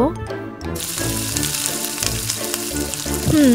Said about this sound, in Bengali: আমি এখন রুটিটা ভেজে নিব।